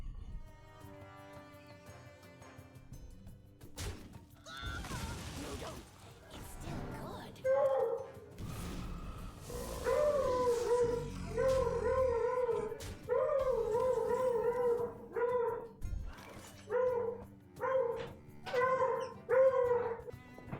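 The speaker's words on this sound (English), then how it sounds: "he gets really excited to play with other dogs" An excited dog barks and howls repeatedly in a rising, sing-song run of yelps and howls. It grows louder and more insistent toward the end, close by and over game sounds.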